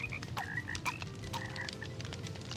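Frogs croak in Minecraft, several short chirpy croaks popping up irregularly over a low background rumble, fairly faint and close, with no talk.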